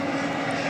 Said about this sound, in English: I'm hearing what sounds like a firing up of one of our UPS planes